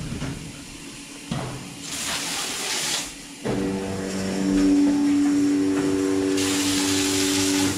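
A water hose rinses a DeLaval VMS milking robot in a cow barn, with bursts of loud hissing spray starting and stopping against a steady humming machine drone with a tonal whine.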